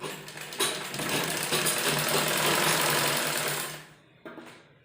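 A sewing machine stitching a kurta sleeve to the body piece runs in one continuous close whirring burst for about three seconds, then stops, followed by a brief mechanical clack.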